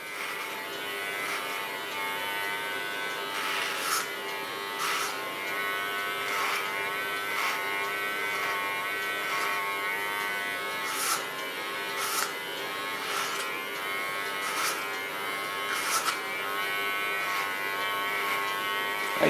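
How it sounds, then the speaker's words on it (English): An electric hair clipper cuts hair during a pixie cut, buzzing steadily close by with faint repeated clicks and snips over its even hum, without speech. "Set it in the clipper and position it with my comb."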